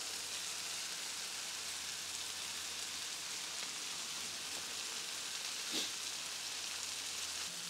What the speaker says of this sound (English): We're going to whisk in our beef broth now.